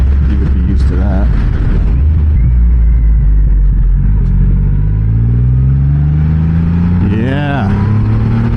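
A Triumph Rocket 3 GT power cruiser motorcycle rumbles loudly at speed, its deep steady engine drone rising in pitch as it accelerates, with wind buffeting throughout.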